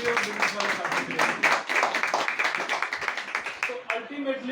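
A small audience claps in a quick, uneven burst of close hand claps, with speech running over and between the claps.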